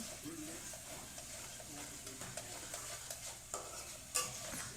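Curry base fries in a wok over a high flame for a coconut-free malai curry, with soft sizzling under repeated spatula scrapes and light metallic clinks, ending in one sharper clatter.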